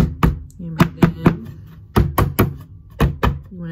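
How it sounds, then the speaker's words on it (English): Wooden tabs of a laser-cut book cradle hammered into their slots: about eight sharp knocks in uneven clusters of two and three, close and loud, each with a short woody ring. "Set it on top of your slots, hammer it in."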